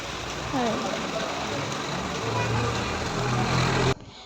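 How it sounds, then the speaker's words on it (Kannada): Steady rain pours down outdoors in a dense, even hiss with a low rumble underneath, continuing unbroken for several seconds before cutting off abruptly near the end. "ಈ ಕಡೆ ಸೈಡಲ್ಲಿ ಮಳೆ ಬರ್ತೈತೆ"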